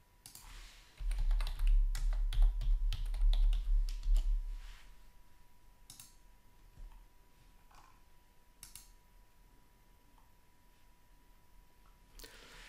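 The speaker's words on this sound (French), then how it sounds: "Je peux ici taper une description de mon pantalon." Rapid computer-keyboard typing of filler text for a clothing product description, dense clicking for the first few seconds, then trailing off to a few sparse keystrokes in a quiet room.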